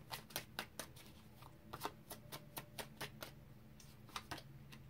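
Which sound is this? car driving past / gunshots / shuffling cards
shuffling cards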